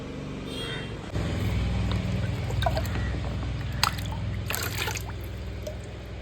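Water poured onto the soil of indoor potted plants, a steady liquid trickle and dribble with soft drips and squishy soaking sounds, close and moderately loud after a brief quiet start.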